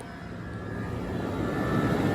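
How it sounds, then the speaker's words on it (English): Loud, steady mechanical whirring drone of the AC compressor on a Jeep Wrangler 4xe, growing slightly louder over a couple of seconds, no voices. "But you can also hear that AC compressor is kind of loud."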